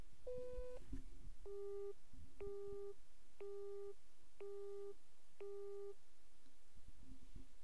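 A telephone busy tone sounds on a call placed to Britain, a steady series of five or six evenly spaced beeps over a faint line hiss, distant and quiet with no speech.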